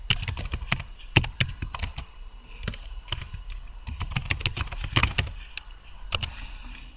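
Fingers tap quickly on a computer keyboard while an email account is set up in Outlook 2013, giving close, crisp key clicks in irregular bursts with short pauses between them.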